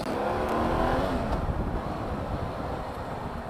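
A brand-new 2017 BMW F800GSA motorcycle pulling away on a ride, its engine a steady broadband drone mixed with heavy wind rush, loud and close throughout with no talk.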